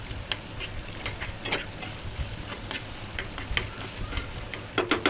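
Onion, garlic and a few raw shrimp sizzle and crackle in a hot pan for a prawn bharta, with steady frying hiss, scattered pops and spoon-stirring clatter growing louder near the end.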